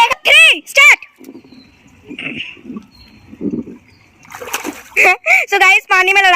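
Water splashing in a home bathtub used as a pool during a sibling water fight. Repeated slaps and splashes come through the middle, between children shouting and squealing loudly.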